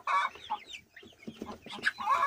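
A rooster and chickens cluck close by in a farmyard, with several short, irregular clucks and a few louder calls at the start and end.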